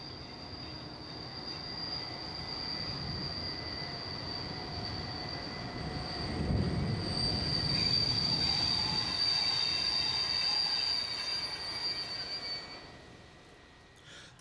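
Belgian mainline diesel-hauled train rolling past on rails, a sustained high-pitched wheel squeal over a low rumble that builds midway and fades near the end, heard from some distance.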